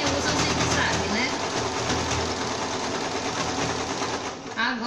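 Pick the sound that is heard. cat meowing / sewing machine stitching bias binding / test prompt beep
sewing machine stitching bias binding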